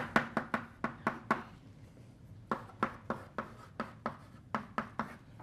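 A lecturer writes on a board with a quick run of crisp, sharp strokes and taps, pauses, then adds a second steady burst of strokes in a quiet room.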